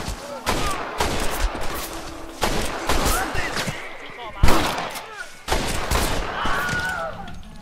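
Gunfire in the video game Red Dead Redemption, loud bursts of repeated shots in several clusters with brief gaps between them, over a steady game soundscape.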